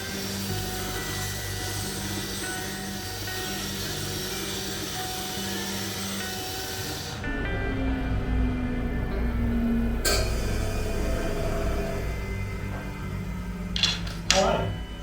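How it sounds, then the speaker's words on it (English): Bandsaw running through cedar for guitar kerfing stock in a woodshop, a steady motor drone with a louder cutting whine joining partway, ending in a few short knocks. "next I'm going to reset the bandsaw and cut out cedar for the kerfing"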